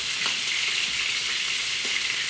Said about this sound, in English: let's add in our zucchini